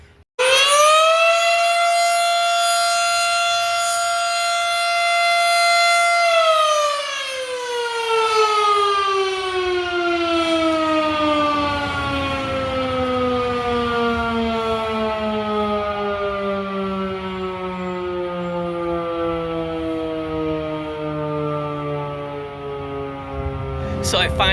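A civil defense siren sounds at noon in Lindenhurst, Long Island, holding a loud rising tone for several seconds, then winding down in a long falling wail that fades slowly, heard from outdoors with no talk.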